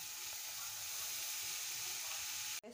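Finely chopped fenugreek leaves fry with browned onions in a pan, a steady bright sizzle and hiss that holds evenly and close, cutting off abruptly near the end.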